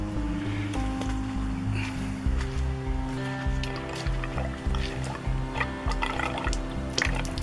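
Water runs into the fresh water tank of an A-frame popup trailer, a steady sloshing, gurgling fill that continues alone without pause.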